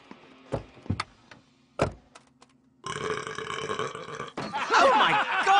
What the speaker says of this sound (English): That was such a hot burp!